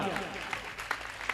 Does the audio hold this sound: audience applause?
yes